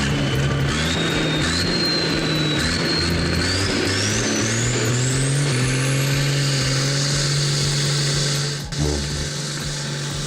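Heavy tractor engines labour under load in a rope-pulling duel, a loud, steady diesel drone with a whine climbing steadily in pitch, then a brief dip and thump near the end.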